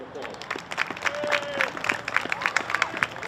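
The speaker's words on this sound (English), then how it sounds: "Please give them all a round of applause." A crowd at a high school soccer senior night applauds the seniors, with scattered sharp claps and a whistle rising over a murmur of voices.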